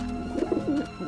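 Pigeons coo in Grim Fandango, a soft throaty warble repeated in short rising and falling phrases over a steady low hum, fairly close and alone.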